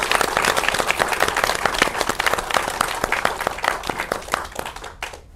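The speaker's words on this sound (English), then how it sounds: "round of applause for us" Audience applause fills a talk session at Griffith Observatory, a loud, dense burst of many hands clapping with distinct sharp claps poking through, thinning and fading out near the end.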